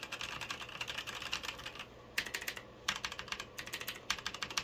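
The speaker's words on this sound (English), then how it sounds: "I wasn't sure if I was going to like the GX Brown tactile switches, but I think I do." Typing on a Logitech G513 Carbon keyboard fitted with GX Brown tactile switches: a steady run of close key clacks, a brief pause, then several quick bursts of keystrokes, with no voices.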